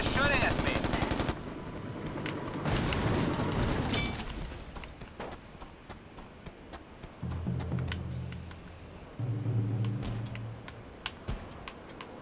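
Video game gunfire comes as bursts of rapid automatic shots, loudest at the start and then in short clustered volleys. Sparse clicks and other game sounds fill the gaps between them.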